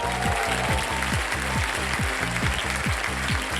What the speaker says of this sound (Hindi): और तालियों के साथ आपका स्वागत।